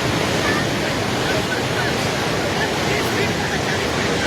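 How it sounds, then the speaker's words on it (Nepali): Floodwater of the swollen Trishuli river roars in a dense, continuous rush of churning waves, loud and close with wind buffeting the microphone. "हेर्नुहोस् त त्यहाँ छाल"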